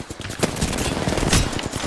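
Rapid automatic gunfire in Apex Legends, a dense burst of shots over nearly two seconds with loud clustered cracks and no pauses.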